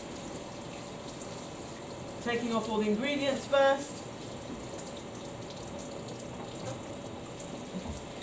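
Warm water runs steadily from a tap while hands are washed, a person briefly speaking, a constant soft gushing throughout.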